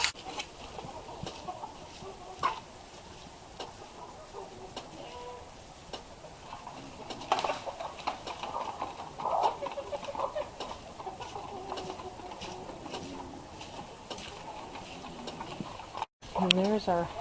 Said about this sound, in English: the chickens are already out here waiting for me to feed them